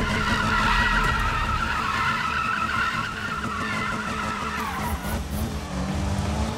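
In the 2016 Need for Speed racing game, a car's tires squeal in a long, sustained skid under a loud, steady engine roar, with no voices.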